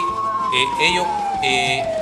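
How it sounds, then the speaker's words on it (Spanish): Emergency vehicle siren, such as a fire engine or police car, wailing in a steady falling tone with overlapping harmonic bursts, moderately loud and continuous throughout. "son las sirenas, por ejemplo, de bomberos, de algún vehículo policial de Carabineros"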